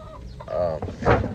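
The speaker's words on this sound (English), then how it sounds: "I got more chickens in there that I gotta feed and stuff" Chickens clucking close by in a backyard coop, a couple of short throaty clucks and squawks over about a second.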